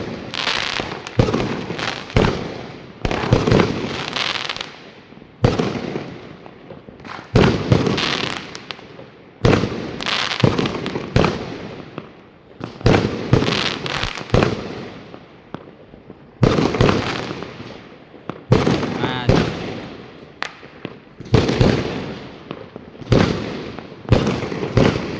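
Dense New Year's Eve fireworks and firecrackers burst nonstop across a town at night, loud rapid cracks and booms in rolling volleys with brief gaps, mixed near and distant explosions.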